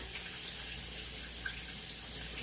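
Tap water runs steadily into a kitchen sink as a paring knife is washed, a constant close hiss with no talking.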